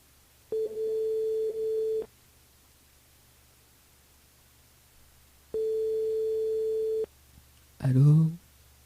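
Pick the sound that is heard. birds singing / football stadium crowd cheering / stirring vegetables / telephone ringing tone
telephone ringing tone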